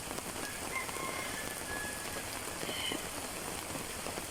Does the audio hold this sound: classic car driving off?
no